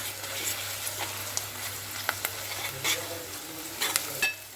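A spoon stirs an onion, tomato and ginger paste curry with broad beans in a pan, giving a steady low sizzle broken by several sharp scrapes and clinks, close up with no talking.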